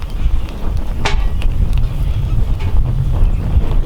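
Wind rushes into a Vargo titanium folding wood stove through its opened door, a steady, loud, close roar of gusting air with a few brief crackles or knocks over the constant rumble.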